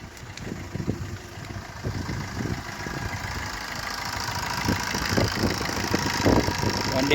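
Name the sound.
Maruti Swift car engine starting and idling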